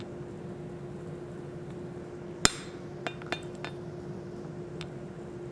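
A forging hammer strikes hot steel on an anvil while shaping a Nordic wolf head door knocker: one sharp ringing blow, then several lighter clinking taps over a steady background hum.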